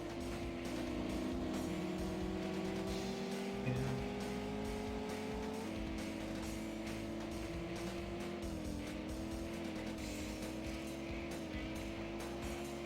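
Race car engine from the N64 game World Driver Championship, a steady whining drone with shifting pitch sweeps as gears change, continuous and loud throughout with no talk.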